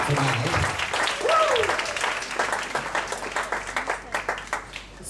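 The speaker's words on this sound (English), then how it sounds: "can I have an applause, everyone, for" PechaKucha Night audience applauding the speakers, a crowd's clapping under voices at first, then thinning into scattered distinct claps that fade toward the end.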